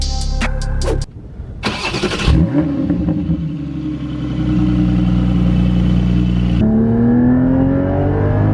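A Porsche 718 Cayman GT4 engine starts with a sharp bark, then settles into a loud, steady, close drone with a rising rev and gear change near the end.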